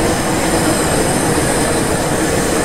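An S-Bahn train runs steadily in Train Sim World 4 on the Rosenheim–Salzburg line, a continuous loud rumble of wheels and rail noise with no voices over it.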